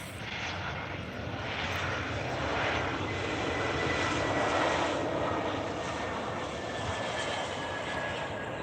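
South African Airways A320 landing at OR Tambo International Airport, a loud broad jet engine roar that swells and holds steadily, with no talk over it.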